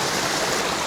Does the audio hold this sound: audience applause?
no